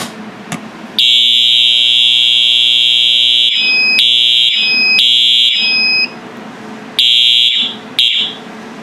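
Fire alarm system set off by a Silent Knight T-Bar pull station blares a loud, piercing electronic tone in repeated bursts with short gaps, close by and alone.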